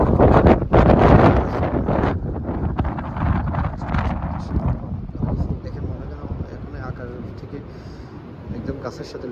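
Strong wind from a snowstorm in Buffalo roars and buffets the microphone in loud gusts that gradually ease, with a voice audible underneath.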